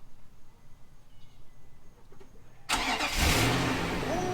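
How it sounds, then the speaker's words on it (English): A Nissan Armada fitted with bigger tires starts up: after a quiet stretch with faint ambient sounds, the engine abruptly catches and settles into a loud, steady idle with a whine from the power steering. "All right, Ben, start it up."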